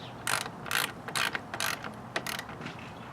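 Ratchet tightening a fastener into plastic on the radiator of a 2013 Kia Optima SX Turbo, five or six quick close rasping bursts of clicking in a steady rhythm, then a couple of fainter strokes.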